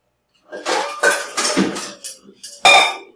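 A metal colander is set down into a kitchen sink during home pasta making, giving a handful of sharp clanks and rattles with a loud final knock, no talking.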